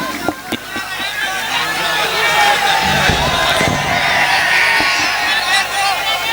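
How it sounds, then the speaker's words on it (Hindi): An audience at a mushaira poetry gathering claps and cheers to welcome a poet, a dense sustained burst of applause and excited voices with a few sharp claps at the start. "आइए जोरदार तालियों से इस्तकबाल करें अपने दयार के"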